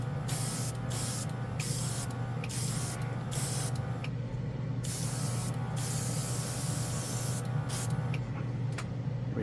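A Casubaris portable airbrush sprays flat alcohol-thinned paint in a steady close hiss, broken by several short pauses as the trigger is released and pressed again.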